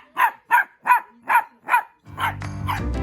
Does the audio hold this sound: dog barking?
yes